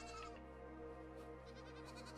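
Sheep bleat in the video game AER: Memories of Old, as a steady layered chorus of drawn-out cries over a constant droning game background, loud and close.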